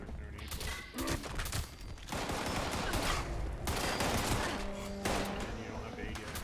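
Dense gunfire from a shotgun build in a video game comes as rapid, loud overlapping blasts. The shots run almost without pause over a constant heavy background noise.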